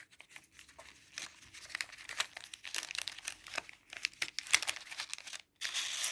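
Paper banknotes crinkle and rustle up close as they are handled and slid into a paper budget envelope, with soft irregular crackles, a brief pause and then more rustling.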